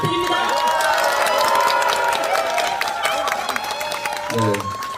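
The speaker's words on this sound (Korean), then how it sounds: "힘찬 환영의 박수 부탁드립니다." A crowd gathered at Suam Market in Ulsan for a press event applauds in welcome, brisk clapping mixed with cheering and overlapping voices, tapering off near the end.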